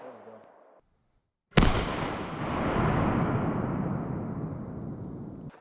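A single loud gunshot with 230-grain FMJ rounds, fired at 3D printed body armor, cracks after a brief quiet and leaves a long, broad rumbling tail.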